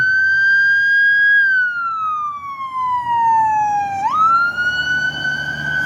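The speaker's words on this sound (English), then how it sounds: "state police sirens sound different" A state police car siren wails, loud and steady, holding a high tone, sliding slowly down, then jumping back up to its high pitch.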